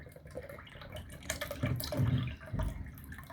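Coconut water from a green coconut, meant for a homemade pudding, is poured in faint, uneven splashing gurgles with a few louder bursts, and no talk.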